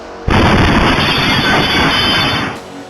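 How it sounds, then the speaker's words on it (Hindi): Powerful bomb blast inside the Nowgam police station in Srinagar caught on CCTV: a sudden loud broadband roar erupts and sustains for over two seconds, then cuts off abruptly. "धमाका इतना जोरदार था कि 100 मीटर दूर तक मानव अंक के टुकड़े में।"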